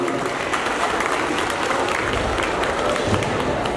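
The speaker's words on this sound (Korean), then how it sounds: "박수 한번 부탁드리겠습니다" Audience applause in a hall at the 2023 Ansan Cup international open taekwondo tournament, a continuous wash of many hands clapping at a steady, moderately loud level without talk.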